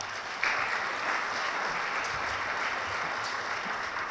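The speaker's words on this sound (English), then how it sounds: "please give them a round of applause" A crowd at an evening school ribbon-cutting celebration applauds with steady, dense clapping that holds evenly throughout, with no talk over it.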